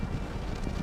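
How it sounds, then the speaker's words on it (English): Steady wind buffeting a microphone at a kiteboarding session on open water, a constant low roar with no voices. "It's windy."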